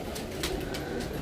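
Pigeons cooing close by, a few soft repeated coos over a low background murmur, no talk.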